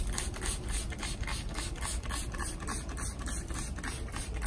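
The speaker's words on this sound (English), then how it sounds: "I'm going to begin spraying" A whitewash spray bottle is squeezed repeatedly while spraying a young Dapple Supreme pluot fruit tree, giving a quick, even series of close mechanical clicks and hissing bursts throughout.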